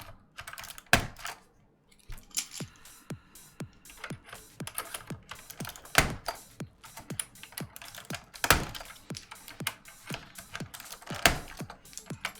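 Alps keycaps are pried off a keyboard one after another in sharp, close clicks and snaps at an uneven pace, with a few louder pops scattered among the lighter ticks.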